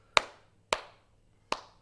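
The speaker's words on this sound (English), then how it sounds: "Let's give him a round of applause for his backstage promo." A few isolated hand claps, three sharp, evenly spaced claps from a single clapper, fairly quiet and close, during a wrestling recap talk show.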